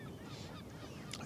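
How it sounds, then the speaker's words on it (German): Water birds, some kind of duck, honk faintly and at a distance, with a brief louder call near the end over steady outdoor ambience at a harbour cruise terminal. "Also das muss doch irgendeine Entenart sein."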